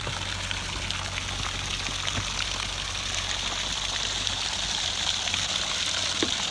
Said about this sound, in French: Alors on a installé la petite pompe. Et on va essayer de rincer tout ça